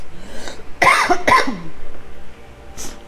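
A person coughs several times in quick succession, harsh and close, followed by a final softer cough.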